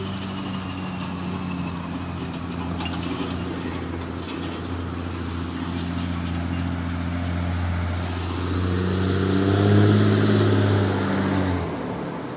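A big truck engine rumbles steadily with a deep drone that swells louder toward the end, as though the vehicle draws closer, before easing off.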